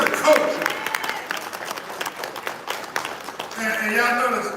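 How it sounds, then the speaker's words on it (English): Audience applause rises from a live gathering, steady clapping spread across the room for several seconds with a busy, dense texture and no clear voice on top. "Y'all give him a big round of applause."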